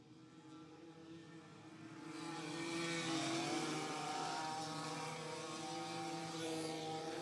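Junior Lights class racing karts at a state titles meeting pull out onto the track, engines droning and rising as they build from moderate to louder, sustained from mid-distance.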